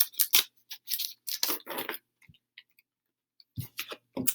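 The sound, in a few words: opening a pack of glow-in-the-dark terrarium stickers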